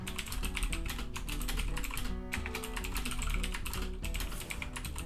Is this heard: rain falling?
no